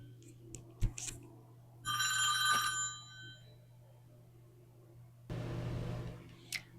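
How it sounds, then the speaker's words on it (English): A phone ringtone sounds during a recorded talk show, a short bright electronic ring burst heard close, with faint clicks and rustling around it and no talk. "If you heard my phone ring"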